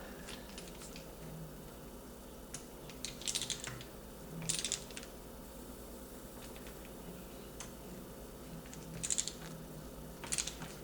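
Screws being tightened while a Marlin 336 lever-action rifle is put back together, heard as sparse, faint clicks and ticks in a quiet room, with a few slightly louder clusters and no talking.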